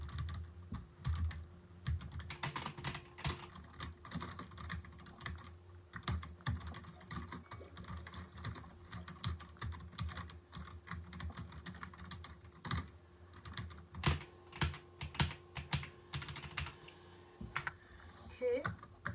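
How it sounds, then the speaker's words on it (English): Typing on a computer keyboard: rapid, irregular clusters of sharp close-up key clicks with short pauses, continuing throughout over a faint steady hum. "doing a sound test on my keyboard"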